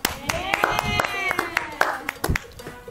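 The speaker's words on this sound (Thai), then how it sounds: "เย้ ปรบมือ" A few sharp hand claps ring out over lively talking and background music, close and fairly loud.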